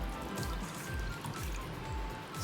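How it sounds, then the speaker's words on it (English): Milk poured into white sauce in a pan: a steady liquid stream with rhythmic gurgling pulses, close and fairly loud throughout. "Again, we'll add some milk."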